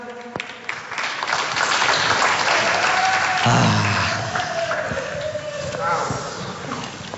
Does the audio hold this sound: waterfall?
no